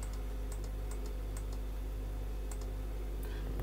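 Computer mouse clicks while adjusting LED colour settings for an Arduino Halloween prop controller, a quick scatter of light, sharp clicks over a steady low hum, with no talking.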